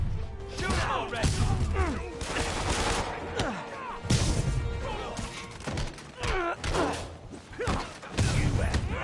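Gunfire in a Spider-Man video game cracks out in rapid bursts with thuds and crashes, layered with game voices and music, fairly loud and busy throughout.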